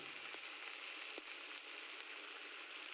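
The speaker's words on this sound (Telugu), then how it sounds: "బాగా కలపాలి, కొత్తిమీరని వేయించాలి." Finely chopped coriander leaves fry in hot tempering oil for a coriander pickle, giving a steady, even sizzle and hiss that runs unbroken and alone, with a few faint clicks of stirring.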